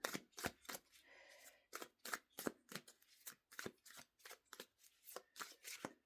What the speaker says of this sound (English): let's just do another shuffle.